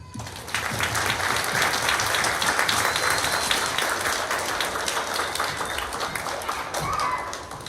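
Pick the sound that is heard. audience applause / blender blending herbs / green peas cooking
audience applause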